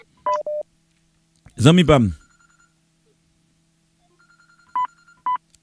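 Phone call placed over WhatsApp: short electronic dial-type tones near the start, then a pair of repeating ringback beeps near the end, with a burst of someone talking in between over a low steady hum.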